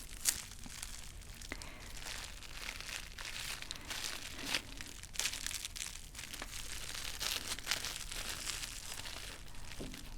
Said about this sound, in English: Let me unwrap this a little bit